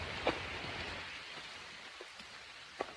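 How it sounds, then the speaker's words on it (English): Rain falls on a forest trail in a nature preserve during a wet hike, a faint steady hiss with a few soft, scattered drop taps. "it's raining."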